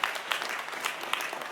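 Audience members clap after a speaker at a parish council meeting, a brief, moderately loud patter of applause with individual sharp claps standing out.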